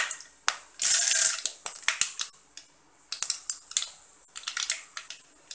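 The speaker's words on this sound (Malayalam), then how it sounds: "എണ്ണ ചൂടായി കഴിയുമ്പോൾ നമുക്കതിലേക്ക് കടുക് ഇട്ട് കൊടുക്കാം കടുക് പൊട്ടി തുടങ്ങുമ്പോൾ ഉഴുന്നും" Sharp, irregular crackles and pops of mustard seeds bursting in hot oil, with a brief sizzling hiss, close and fairly loud.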